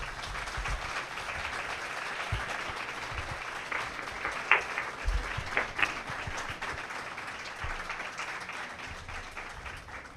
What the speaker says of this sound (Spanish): le ofrecemos un aplauso al doctor